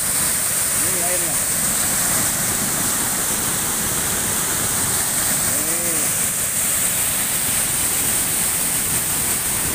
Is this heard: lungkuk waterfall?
yes